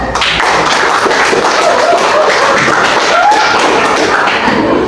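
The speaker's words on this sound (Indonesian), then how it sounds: "kita beri aplaus dulu" Classroom applause from students rings out continuously across the whole stretch, a dense, loud patter of many hands clapping with no break and scattered thuds mixed in.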